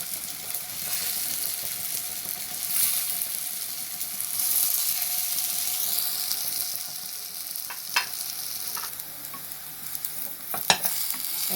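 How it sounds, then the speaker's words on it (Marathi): Potato patties shallow frying in oil for Mumbai-style ragda patties, a steady bright hiss of sizzling throughout, with a few sharper clicks and scrapes from a spatula or pan near the end and no talking. "शॅलो फ्राय करू"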